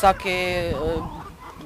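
Chickens and a rooster cluck up close on a rural farm in the Prekmurje plain, a short burst of throaty calls, with a voice speaking alongside.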